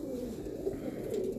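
A female show pigeon coos softly and steadily in a low, continuous murmur close by, with no talking.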